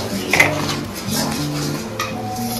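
Potatoes going into a pan for a Bengali-style spiced potato dish, with metal utensil clinks and scraping against the pan, a few sharper clanks among softer stirring and shuffling sounds.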